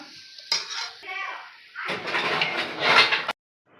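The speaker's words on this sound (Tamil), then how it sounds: "இது எல்லாத்தையும் நல்லா மிக்ஸ் பண்ணிடலாம்" A spoon stirs tomato masala in a pan, scraping and clinking against the metal in a few short bursts separated by pauses, close and fairly quiet.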